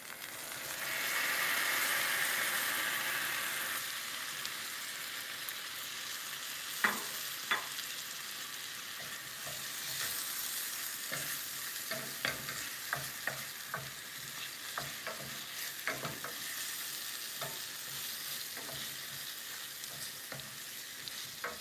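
Tomatoes drop into a hot pan of seasoned chickpea curry base and sizzle, followed by a long stretch of quieter frying punctuated by repeated scraping and clacking stirs of a utensil against the pan.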